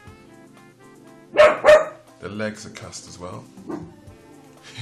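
A dog nearby gives two sharp barks in quick succession, then someone talks calmly over a faint steady background.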